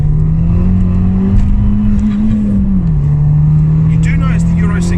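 A custom 260bhp Abarth 595 engine revs loudly and close, holding a steady high drone with a brief rise and dip in pitch, while voices chat faintly over it.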